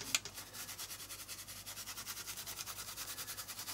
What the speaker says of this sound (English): I'm not dabbing, I'm just gently rubbing.